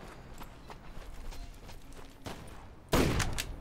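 Gunfire in the survival shooter Deadside: a few faint distant shots and footstep-like knocks, then a sharp loud burst of fire near the end.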